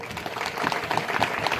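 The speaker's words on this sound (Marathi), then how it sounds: "त्यांच्यासाठी एकदा जोरदार टाळ्या वाजवा" An audience at a gathering breaks into applause, a dense, steady wash of many hands clapping together for a brief moment, fairly loud and close.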